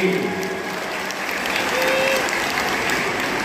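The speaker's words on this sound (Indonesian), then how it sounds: "Tepuk tangan buat Pak Dedi." A large crowd applauds at an open-air presidential campaign rally for candidate Anies Baswedan, a sustained, even roar of clapping with crowd noise throughout.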